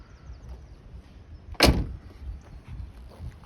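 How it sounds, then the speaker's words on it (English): A third-generation Chevrolet Camaro door shuts with a single sharp, solid thud, close and clear against quiet outdoor background noise. "The doors shut really nicely, they're not hanging down."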